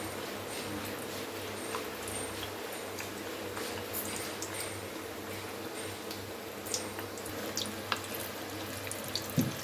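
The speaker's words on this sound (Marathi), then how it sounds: "तेल आता गरम झालेलं आहे. आता आपण लॉलीपॉप टाकूया." Egg lollipops slide into hot frying oil, giving a steady, soft, continuous sizzle and crackle with occasional faint clicks, fairly quiet and without talk.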